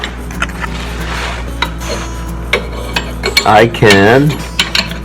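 An oil pan stud on a Massey Ferguson 231 tractor is unscrewed: scattered metallic clicks and rubbing scrapes, then a short run of squeaking, grinding turns near the end. Someone briefly speaks.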